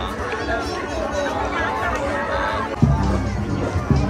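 Dense chatter from a big New Year crowd at Torres Farm Hotel and Resort, a steady hubbub of many overlapping voices close by, with a nearer voice speaking over it.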